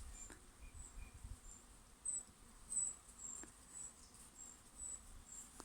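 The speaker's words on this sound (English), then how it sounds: "The bees are zooming." Bees buzzing faintly among lupine and mugwort in a forest garden in mid June, a soft, intermittent insect hum passing nearby against quiet outdoor ambience.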